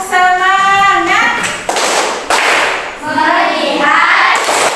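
Students in a classroom do a rhythmic spirit clap, sharp hand claps in a patterned beat mixed with children's chanting voices, loud and close throughout.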